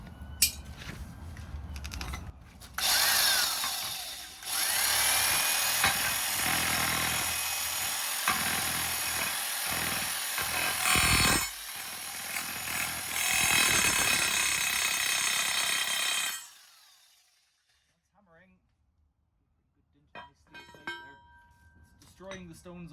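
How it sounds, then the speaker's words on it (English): A Makita hammer drill hammers into stone: loud, continuous percussive drilling grinds on for several seconds with brief pauses, then stops abruptly, leaving near silence and a few faint clicks. "Destroying the stones underneath, so it's hammering."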